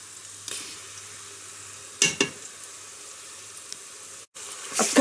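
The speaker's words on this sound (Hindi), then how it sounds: "अब थोड़ा सा हल्का सा भून लेते हैं फ्यू सेकंड के लिए" Onions, garlic and ginger fry in a pan for a mutton nihari: a soft, low sizzle runs underneath, with a few louder bursts of stirring scrapes and spitting oil, near and without talk.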